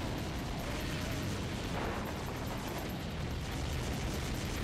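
Constant loud roar of shooting and explosions from the Wii video game Counter Force, a dense wall of blasts and crackling bursts that never lets up.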